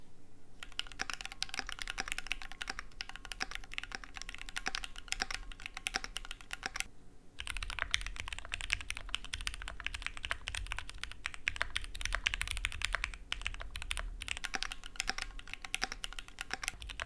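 Mechanical keyboard with PBT keycaps typed on steadily, first one board and then, after a brief pause, a store-bought keyboard, with dense continuous keystroke clatter close up and no voices.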